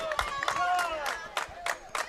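Spectators at a Wednesday afternoon regional high school softball playoff game, a loose mix of voices, shouts and scattered claps heard at moderate distance.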